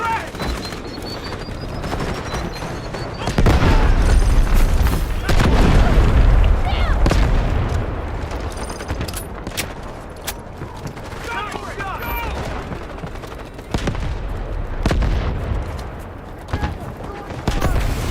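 Delta Force video game battle: dense, loud gunfire and booming explosions roll on continuously, with heavy low-end blasts and faint voice callouts mixed in.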